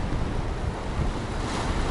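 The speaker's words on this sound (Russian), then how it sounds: "Сегодня море бушует." Rough Black Sea surf at a beach in Adler breaks and rushes onshore in a steady, loud, close roar, with wind noise buffeting the microphone throughout.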